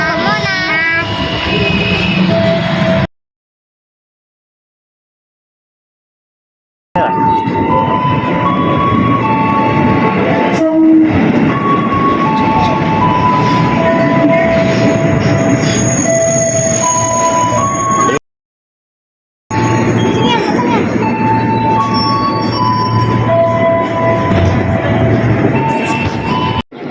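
A commuter train to Monas in Jakarta rumbles and rattles loudly along its rails with faint squealing tones, broken by two short stretches of silence.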